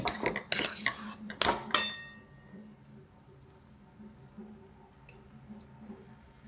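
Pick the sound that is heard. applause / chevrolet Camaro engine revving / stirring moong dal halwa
stirring moong dal halwa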